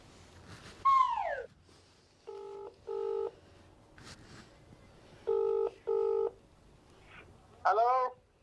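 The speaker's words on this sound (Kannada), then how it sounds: "ಈಕಿಗೆ ಫೋನ್ ಹಚ್ತೇನೆ ತಡಿ." Touch-tone telephone keypad dialing a number, with clear paired-tone beeps in short bursts separated by pauses, interspersed with rising and falling electronic chirps, loud and close with little else around.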